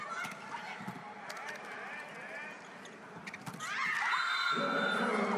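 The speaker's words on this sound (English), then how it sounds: "the Turkish team, they're screaming a lot over there, making the USA hear them" Players in a women's international volleyball gold medal match between Turkey and the USA shout and scream, heard amid arena crowd noise and commentary, with a louder burst of high-pitched cries near the end.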